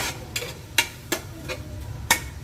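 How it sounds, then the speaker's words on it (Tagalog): Garlic and onion are sautéed in a pan over a quiet background sizzle. Several sharp, separate clinks and scrapes, likely a spatula striking the pan, come at irregular intervals. "Bago natin i-gisa yung bawang at sibuyas"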